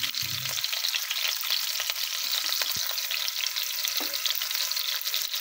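Chilies, green chilies, garlic and onion frying in a pan: a loud, continuous close sizzle with occasional low scrapes and knocks from stirring, no talking.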